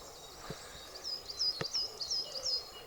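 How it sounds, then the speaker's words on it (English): Birds singing in chilly morning woods at a bushcraft camp, a faint series of short high whistled notes repeating at an even pace, with a couple of soft knocks nearby and a hushed outdoor backdrop. "Birds are singing."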